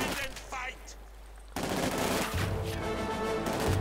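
Submachine gun fire in the Company of Heroes 2 strategy video game: after a quieter stretch with faint battle noise, sustained rapid automatic bursts break out and continue densely to the end, mixed with other gunfire.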